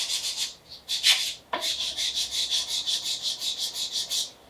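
Back of a wood chisel rubbed on sandpaper in rhythmic strokes, a dry scraping hiss repeating quickly and evenly up close, with a short pause and a light knock partway through.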